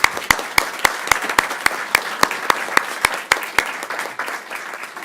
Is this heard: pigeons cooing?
no